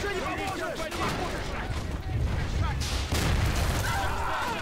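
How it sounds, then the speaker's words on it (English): Sustained gunfire and booms from a Men of War Assault Squad 2 battle in Stalingrad, with a German machine gun rattling amid house-to-house combat, dense and continuous with a voice talking over it. "There's a German machine gun at the end of the road."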